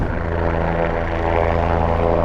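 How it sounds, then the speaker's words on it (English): A Bell 206 Jet Ranger helicopter used as a Life Flight aircraft flies nearby with a loud, steady turbine whine and rotor drone, continuous throughout. "It's a Bell 206, if you're curious."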